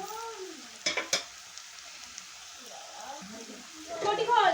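Tomatoes and onions stirred and frying in a pan for a chicken stomach and liver paturi dish, with soft sizzling, a couple of sharp scraping knocks, and louder crackling toward the end, under a voice talking.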